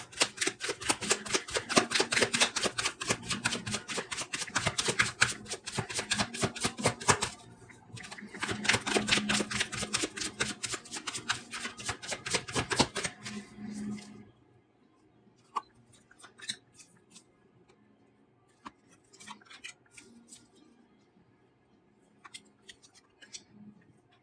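Tarot cards shuffled and handled, a rapid dense riffle of card flicks for several seconds, a second riffle, then scattered soft taps and slides of cards being pulled and laid down, close by.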